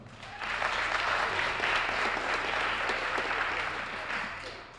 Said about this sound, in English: He's well worth that round of applause